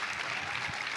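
Audience clapping after a stage performance at an opening ceremony, a dense even wash of applause lasting about a second at moderate distance.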